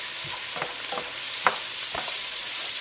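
Onions frying in a pan, a steady high sizzle with several scraping stirs of a utensil spaced about half a second apart, close and alone.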